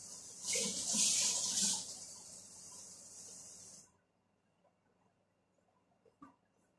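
A large amount of water is poured into a cooking pot of sautéed moringa with sardines, a bright splashing hiss for about four seconds, then quiet with a few faint clinks.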